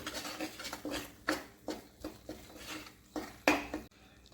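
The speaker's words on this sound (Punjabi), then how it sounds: "ਇਹਨੂੰ ਆਪਾਂ ਗੈਸ ਦੀ ਮੀਡੀਅਮ ਫਲੇਮ ਤੇ ਲਗਾਤਾਰ ਹਿਲਾਉਂਦੇ ਹੋਏ ਪਕਾਵਾਂਗੇ" Wheat flour being stirred and roasted in a pan over a medium gas flame for dry ginger panjiri, with repeated scraping strokes of a spoon against the pan in an irregular rhythm, close and moderately loud.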